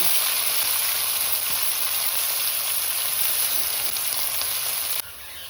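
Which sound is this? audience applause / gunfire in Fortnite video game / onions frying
onions frying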